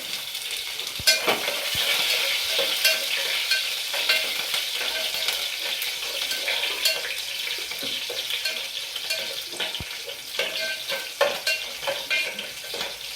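Mustard and other tempering seeds with green chillies crackle and sizzle in hot oil for upma, with a spoon scraping and stirring against the pan, close up and continuous.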